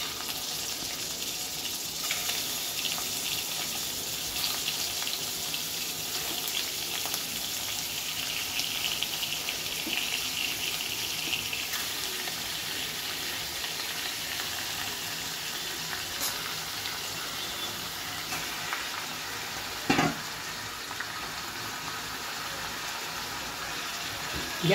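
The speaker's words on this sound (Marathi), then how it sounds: "आता हे जे कोळंबी आहे ते आपण या तेलात टाकायची।" Prawns sizzle in hot oil with black pepper, a steady bright crackling hiss that runs for about twenty-five seconds, with one brief clank near the end and no voices.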